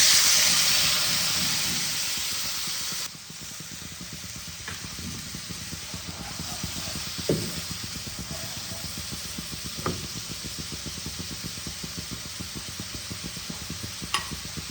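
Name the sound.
cumin, coriander, Kashmiri chilli powder in water added to hot pan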